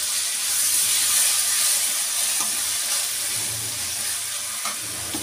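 Ginger-garlic paste fries in a pan over already-browned onions, giving a loud, steady, close hiss of sizzling oil with faint stirring scrapes and no talking.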